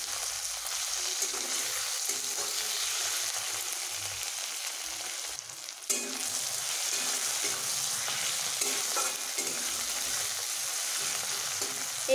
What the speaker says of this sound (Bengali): আমি এইভাবে লাল লাল করে ভেজে নেব পেঁয়াজগুলো।